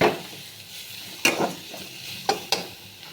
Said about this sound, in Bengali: একটা টমেটো দিলাম, দিয়ে এটাকে ভালো করে আর একটু ভেজে নেব।